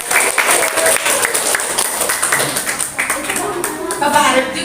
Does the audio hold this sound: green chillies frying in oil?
no